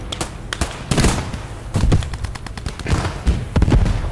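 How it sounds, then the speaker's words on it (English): An MG34 machine gun in a World War II Eastern Front video game fires loud, close bursts of rapid shots, broken by short pauses, with more scattered gunfire mixed in. "MG34 behind us."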